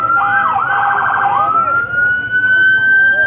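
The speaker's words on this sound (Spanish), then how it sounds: "Se le activó la alarma y a la patrulla esa." Police patrol car siren going off at a street scene, a loud wailing tone sweeping up and down then settling into a steady high whine, close and continuous with faint background noise.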